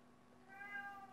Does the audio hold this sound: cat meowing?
yes